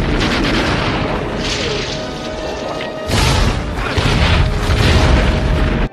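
Bombs exploding in the Tremors monster film, a loud, sustained roar of blasts and rumbling debris that swells again midway before cutting off abruptly, with no speech.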